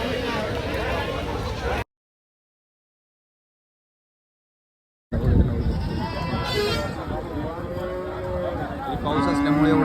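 Cattle moo and goats bleat at a rain-dampened livestock market, loud calls cut off by a gap of silence, then resuming amid a busy crowd of chattering traders.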